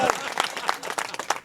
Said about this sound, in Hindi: तालियां बजाओ एक बार दाऊ साहब के लिए।